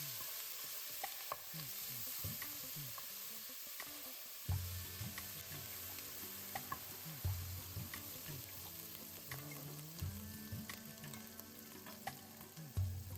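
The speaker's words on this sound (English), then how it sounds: "Now add 1 tablespoon of garlic paste followed by 1 teaspoon of ginger paste. Saute for 20 seconds." Garlic paste and ginger paste sauté in a pan for a chicken biryani, a continuous close sizzle broken by repeated scraping strokes of a spatula stirring the mixture.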